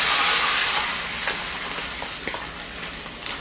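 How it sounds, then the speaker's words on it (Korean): Homemade sweet and sour sauce for Chinese fried fish pieces poured into a hot pan, giving a loud, steady sizzling hiss that slowly eases, with faint stirring scrapes, close up. "만들어 놓은 소스 넣을게요"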